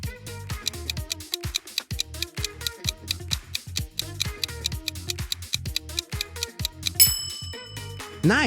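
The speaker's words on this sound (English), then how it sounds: "Nice, that's Reddit." A rapid rhythmic run of bright dings and chiming tones plays in sequence, ending in a sharper high chime, the Reddit app notification sound heard alone and clearly.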